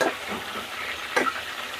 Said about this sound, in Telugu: క్యాప్సికమ్ అయితే ఇట్లా ఫ్రై చేసుకోవాలి